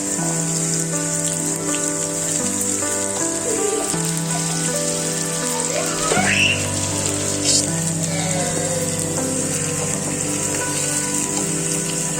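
Chopped onions for a Telangana-style chicken curry sizzle steadily in a pan, a continuous bright crackle that runs the whole time beneath soft background music.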